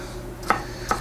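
Two sharp knife chops through green pepper on a cutting board, spaced about half a second apart, close and crisp over a quiet kitchen background.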